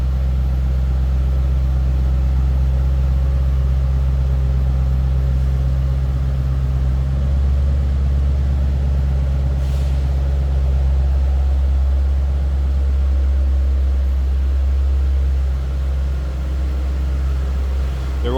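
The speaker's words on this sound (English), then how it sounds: "Slip around to the back so you can hear this run. These have a nice throaty exhaust to them." A 2006 Ford Mustang Roush coupe idles steadily with a deep, throaty exhaust rumble, heard loud and close from behind the car, with no speech.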